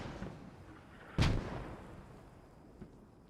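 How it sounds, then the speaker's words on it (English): A mortar shell impact in the video game Post Scriptum, one deep booming blast that decays over about a second, followed by a faint distant thud against quiet battlefield ambience. "There's another mortar triple kill."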